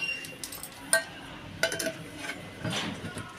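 Metal lid set onto a cooking pot in a home kitchen, a few sharp clinks and knocks of metal on metal, fairly close, with soft scraping between them and no voices.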